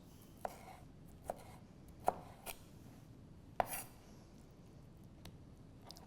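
Knife chopping vegetables for salsa, tomatoes, onions and peppers, on a cutting board: a handful of sharp, separate chops at an uneven pace, quiet and close, with no talking.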